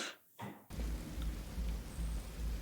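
Rain in the dark opening sequence of the Star Wars series Andor, a steady, dense downpour with a low rumbling undertone that sets in after a brief quieter, shifting start.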